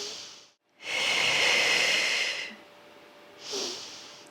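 Close, airy breaths during a Pilates core exercise: one long, steady hissing exhale, a silent gap before it and a shorter breath after, with no talk.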